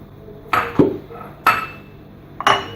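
A pressure cooker pot being handled in a home kitchen while cooking Moroccan vegetable rice, giving three sharp metallic clanks and knocks, close and fairly loud, spaced about a second apart with quiet in between.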